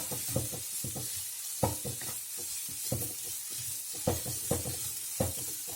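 Peppers are added to onions frying in a pan, with a steady sizzle under repeated scraping and stirring strokes, a spatula knocking and clattering against the pan at irregular intervals, up close.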